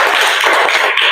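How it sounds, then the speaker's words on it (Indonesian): Students in a physical education class break into a round of applause, a dense, steady wash of many hands clapping together that stays loud for the whole second. "Kasih tepuk tangan untuk kalian semua."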